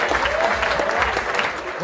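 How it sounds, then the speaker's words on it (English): Audience clapping for volunteers at a sales training session, a dense, loud burst of applause throughout with voices mixed in. "Everyone give these people a round of applause."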